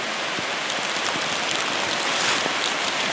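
Heavy rain pours at Thrissur Zoological Park, a steady, dense hiss of drops on surfaces with occasional louder patters, continuous and close throughout with no voices.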